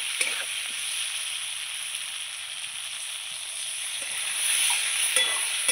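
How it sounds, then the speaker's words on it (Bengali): Water poured into a pan of mustard curry that is frying, giving a steady hissing sizzle with faint stirring scrapes that swells slightly toward the end. "এবার আমি জল দিয়ে দেবো।"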